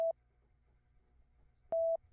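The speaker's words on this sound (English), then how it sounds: "I took a sine wave that just sounded like this." Two short, clean sine-wave electronic tones, a brief blip at the start and a slightly longer steady beep near the end, separated by near silence.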